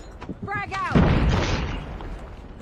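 A frag grenade explosion in the video game Call of Duty Mobile, a single heavy boom following a shouted voice line and decaying into a rumbling tail.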